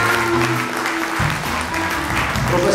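Applause at an Italian stage show, loud continuous clapping with a low music-like hum and faint background voices mixed in.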